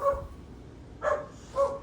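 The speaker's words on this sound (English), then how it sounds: "Yeah, there's my dog. She's freaking out." A dog barks three times in short, sharp bursts. The barks are fairly close and stand alone with no talking.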